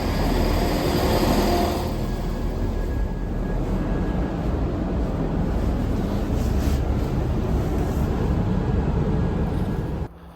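A CrossCountry local train bound for Stamford rumbles steadily from inside the carriage, loud continuous wheel and engine noise with a faint tonal whine, cutting quieter at the very end; nobody speaks.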